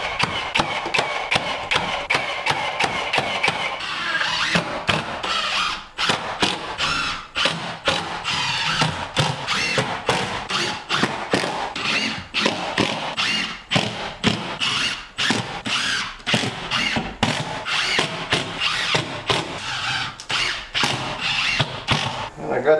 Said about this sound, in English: I'm going to put screws in it to hold it better.